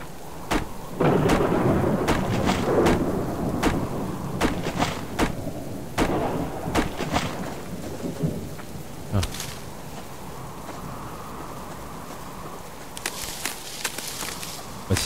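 A thunderstorm with rain in the survival video game Subsistence: a constant rain hiss under repeated loud cracks and rumbles of thunder, with occasional footsteps.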